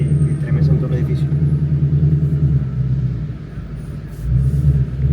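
A new Ford Mustang, an RTR in downtown Miami, rumbles steadily while driving, its low engine drone loud and continuous with a slight dip midway, as people talk inside the car.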